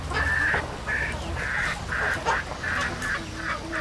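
Free-range poultry near newly hatched chicks make a string of about eight repeated nasal honking calls in short bursts, fairly close and loud over a low background rumble, with no talking.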